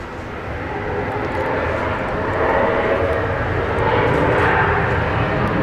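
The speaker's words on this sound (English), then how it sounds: "Virgin Australia coming in from Melbourne." A Virgin Australia airliner on Melbourne flight 337 arriving at Brisbane International Airport, its broad jet roar steady and fairly close, swelling slightly louder through the second half with no talk over it.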